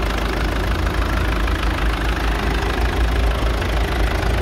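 A budget diesel pickup truck idles smoothly and steadily, with a constant low rumble close to the microphone and no voices over it.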